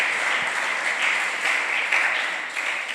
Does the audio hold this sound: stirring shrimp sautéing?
no